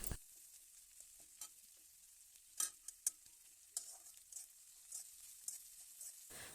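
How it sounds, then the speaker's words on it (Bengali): Finely chopped onions for egg chowmein fry quietly in a pan while a spatula scrapes and taps against it now and then, in short scattered strokes over a faint sizzle. "ছোট করে কুচিয়ে রাখা পেঁয়াজ কুচিগুলো দিয়ে দেব। 2 মিনিট নাড়িয়ে সব ভেজে নেব।"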